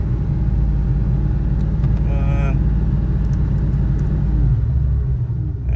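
A Foxbody Mustang with a Terminator X and a Fiesta idle air control valve, its engine idling as a steady loud rumble with a brief rise in revs, a voice speaking over it.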